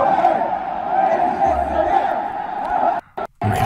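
A packed stadium of Moroccan football fans chants in unison during a match against Congo, a loud sustained crowd roar that cuts out abruptly twice near the end.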